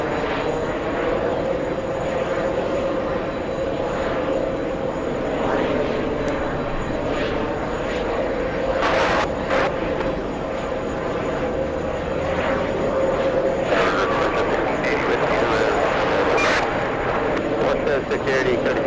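A Swiss airliner at JFK airport produces a loud, sustained engine roar that holds steady close by, with people talking over it and radio chatter at times.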